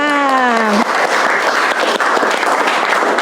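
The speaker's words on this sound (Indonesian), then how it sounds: "Tepuk tangan untuk kalian semua ya." Students in a classroom burst into applause, dense clapping that starts right after a brief spoken voice and continues at close range.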